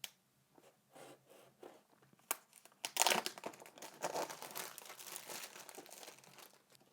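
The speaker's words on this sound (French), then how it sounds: "on va tout de suite commencer par déballer ce petit smartphone" OnePlus 7 Pro smartphone packaging being unboxed, with quiet plastic and cardboard crinkling that swells into denser crumpling and rustling close by, alone with no talk.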